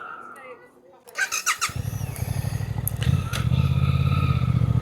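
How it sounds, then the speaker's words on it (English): A Suzuki GSX-8S motorcycle engine cranks and catches, settling into a rapid, loud idle rumble, with a brief squeal and some clatter as it starts. "I want to start my engine"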